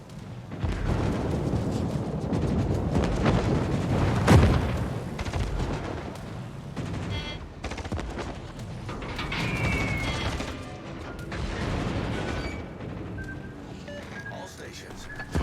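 Video game battle with gunfire and explosions aimed at a designated target, heavy booms and rumbling blasts layered under a radio voice and chatter throughout.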